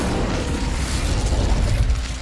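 Incendio fire spell cast in Hogwarts Legacy, a dense, loud burst of roaring flame and crackling blast that fills the whole moment without pause, no voices over it.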